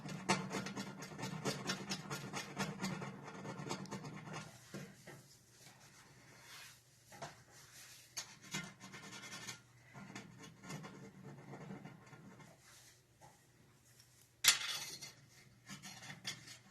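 Burnt-on gunk is scraped off a hot stove top: faint, close rasping strokes come in bursts, fade into quiet stretches, and end with one sharp scrape near the end.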